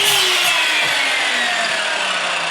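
FERM MSM1034 mitre saw cutting timber, a loud close whining blade tone that slowly descends in pitch as the motor winds down, continuous with no speech.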